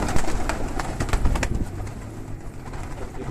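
Pigeons cooing while drinking water on a hot day, several overlapping soft rhythmic coos close by, with flapping and shuffling noises, no talking.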